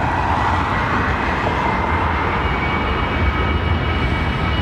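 An Airbus A330 airliner at London Heathrow Airport gives off a loud, steady broadband jet roar that fills the whole stretch without letting up.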